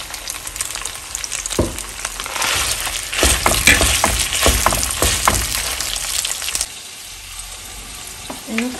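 Longaniza sausage and cooked potatoes frying in a pan, with a loud, dense sizzle and crackle and repeated spatula stirring and scraping at close range that eases to a softer sizzle near the end.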